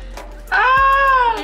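A cat gives one loud, drawn-out meow close by, rising and then falling over about a second, above quiet room noise.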